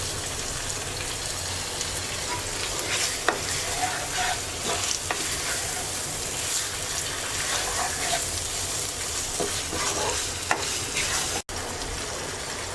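A mixed-fish curry with tomato and green chillies sizzles steadily in a pan, a loud continuous fry with scattered spoon-stirring clicks and scrapes and no talking.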